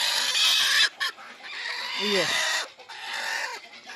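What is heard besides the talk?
hen clucking while brooding eggs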